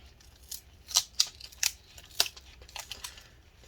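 Adhesive being peeled off a 2012 15-inch Retina MacBook Pro A1398 battery, a series of sharp close crackling tears and crinkles in irregular bursts over quiet background.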